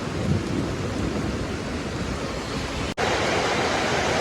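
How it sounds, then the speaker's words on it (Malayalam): Heavy rain pours down in a dense, roaring wash of noise, unbroken except for one abrupt momentary dropout near the end. "പൊരിഞ്ഞ മഴ തീരുന്നില്ല"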